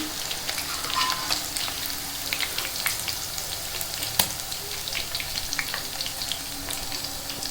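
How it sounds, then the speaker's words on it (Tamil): Chicken pieces deep-fry in hot oil, making a busy, crackling sizzle with scattered pops and one sharp knock from a utensil, close up and steady throughout, with no talking. "இப்போ ஒவ்வொரு சிக்கனாக போட்டு பொறிச்சு எடுத்துக்கணும்"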